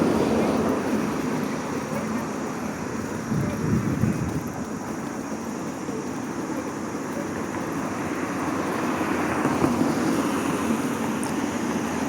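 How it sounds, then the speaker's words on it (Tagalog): Afternoon wind blows steadily across a park, buffeting the microphone with a continuous broadband rush that swells and eases slightly throughout. "Mahangin na ngayon paghapon."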